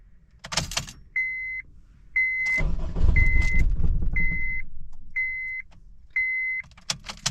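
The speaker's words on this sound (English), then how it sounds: "It definitely is cranking." A car running on E85 fuel is cranked by a newly fitted starter: keys jingle, then a low churning crank lasts about two seconds, while a dashboard warning chime beeps steadily throughout.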